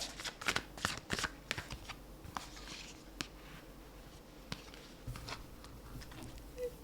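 A deck of Moonology oracle cards is being shuffled up close, giving soft riffling and flicking bursts, busier at first, then fewer and quieter taps and slides, in a hushed setting with no talking.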